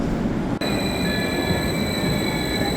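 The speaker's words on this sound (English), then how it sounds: "And here's the train we're going to take to St. Moritz" Passenger train in Switzerland, on the route between Zurich and St. Moritz, heard as a steady, loud rail rumble with bright high-pitched tones that sound like wheel squeal or an electric hum, continuous throughout with no talking.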